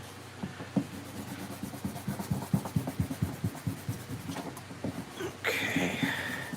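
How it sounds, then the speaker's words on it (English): An eraser rubs back and forth on drawing paper in quick, rhythmic scrubbing strokes, close and fairly loud, pausing briefly before a softer scraping at the end. "I had an eraser."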